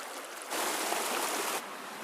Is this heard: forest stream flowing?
yes